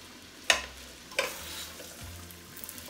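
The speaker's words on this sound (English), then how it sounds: "Just fry for a minute or so." Rice frying in a pan with a soft background sizzle, punctuated by two sharp scraping strokes of a spoon or spatula and a few light taps, close and fairly quiet.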